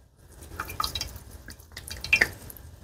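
A small squeeze bottle squirting room-temperature water to wash agar off the roots of tissue-culture plantlets, giving short wet spurts and drips in quick irregular bursts, close and fairly quiet.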